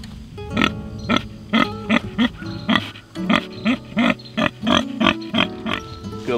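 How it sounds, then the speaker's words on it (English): An Idaho pasture pig grunts and oinks repeatedly, a rapid series of close, loud grunts in short bursts, calling for breakfast on a farm with no talk over it. "I hear Charlie calling for his breakfast"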